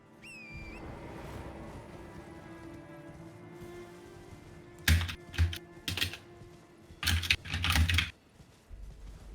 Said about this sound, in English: Well, you're furiously typing, aren't you?